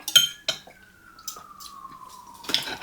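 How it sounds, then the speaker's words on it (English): A faint ambulance siren wails from a distance, its single tone sliding slowly downward, while cutlery and dishes clink close by at a meal of smothered green beans, onion soup potatoes and country fried steak. "Oh, I hear an ambulance now,"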